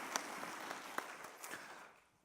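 A church congregation at a Wednesday service claps for children receiving drawing awards, a faint, scattered patter of hands with a few sharper claps, fading out after about two seconds.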